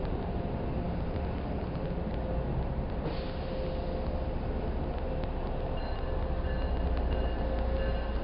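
A train rumbles past at a terminal, a steady broadband roar of rail cars running continuously and fairly close for the whole stretch, with a faint tonal hum on top and no voices.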